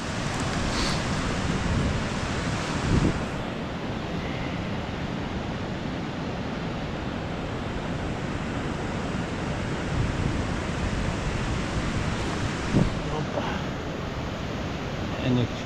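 Water flows over a small river dam in Lithuania, making a constant broadband roar that stays even and close throughout with no clear voices.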